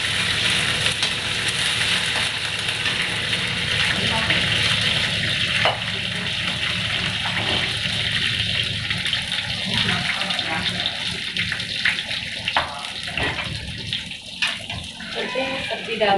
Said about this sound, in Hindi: मैंने मेथी डाल दिया है और जब मेथी चटकने लगेगा ये देखिए करी पत्ता